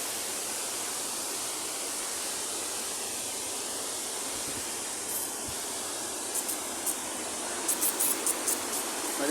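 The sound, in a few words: Ramboda waterfall, Sri Lanka, roaring water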